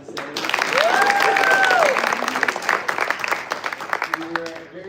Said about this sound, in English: Round of applause to Sam.